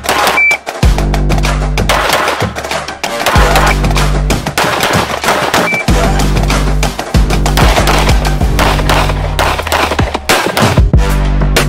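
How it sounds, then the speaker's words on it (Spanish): Loud, close gunshots from a Springfield Echelon pistol ring out repeatedly amid a busy stretch of overlapping firing and rumbling background noise. "Vamos de nuevo. Primer disparo."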